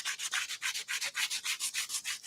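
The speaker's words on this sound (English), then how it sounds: "sanding off the edge of the decoupage paper here so I can have it nice and neat." Sandpaper rubs the edge of decoupage paper on a piece of thrifted furniture in quick, even back-and-forth strokes, about a dozen in a steady rhythm, close and clear with no talking.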